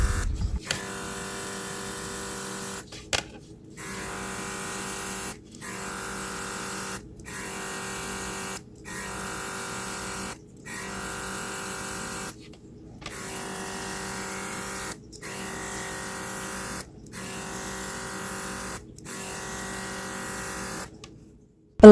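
Steady mechanical hiss and buzz from a cordless airbrush spraying water-based makeup, running in repeated bursts of about two seconds separated by brief pauses.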